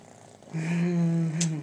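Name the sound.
kitten purring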